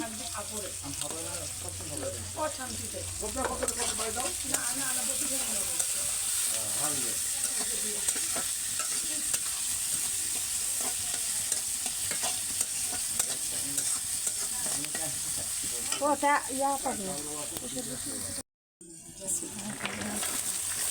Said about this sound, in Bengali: রসুন পেঁয়াজ কাঁচামরিচ সব দিয়ে দিয়ে ভাজছি